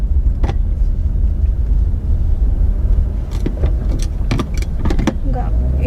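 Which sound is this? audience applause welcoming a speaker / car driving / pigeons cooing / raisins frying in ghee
car driving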